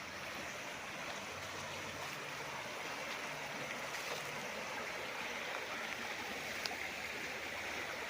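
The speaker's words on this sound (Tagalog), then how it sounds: "At tuloy-tuloy po ang agos niyan." Running water of a small stream on a farm lot with lanzones and banana trees in Liliw, Laguna, a steady, faint rushing wash with no breaks and no voices.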